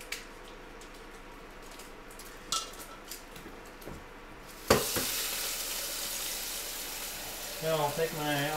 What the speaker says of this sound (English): dump in the almonds, stir the almonds in